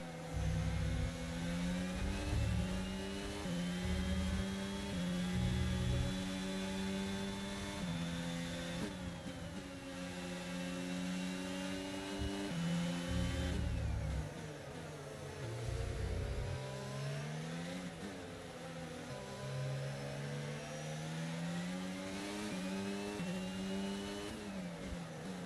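An F1 car engine from the F1 22 game on a Brazil hotlap, a high whining roar that climbs through the gears, drops on braking and surges again, heard alone and close.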